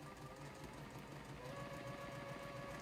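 Sewing machine stitching patchwork quilt pieces straight through a seam intersection, a steady continuous whirring hum with no pauses, close and moderately quiet throughout.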